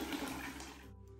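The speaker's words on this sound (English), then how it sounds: "What a great little water fountain." Water gushes from a small drinking fountain along the Camino Portuguese hiking route, a loud, steady rush close by that cuts off abruptly near the end, with no voices.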